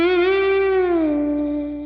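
A single sustained slide guitar note with an effects-laden, chorused tone, glides downward and then holds, ringing steadily and close before slowly fading, with no voices.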